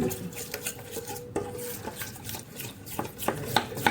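Fritter batter for bok ful bhaja being stirred with a spoon in a bowl after sugar is added, quick irregular clinks and taps of metal on the bowl, close up with no voices.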